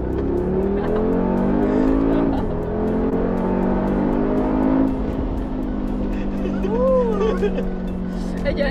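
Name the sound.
Mercedes G63 engine revving while accelerating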